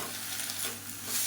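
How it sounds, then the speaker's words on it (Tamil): Ingredients sauté in a pan with tamarind, a soft, steady sizzle and frying hiss heard close up and alone over a brief moment. "இதெல்லாம் நல்லா வதக்கி விட்டுக்கலாம்."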